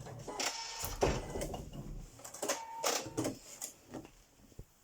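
A sewing machine stitches a backtack near the end of a seam on a denim bag, running in short mechanical bursts that stop and restart a few times, close up and moderately loud.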